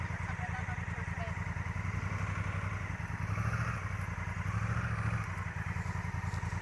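Motorcycle engine running steadily during a riding lesson, a close, continuous mid-pitched chug that swells twice as the throttle is opened, with an instructor's voice partly over it.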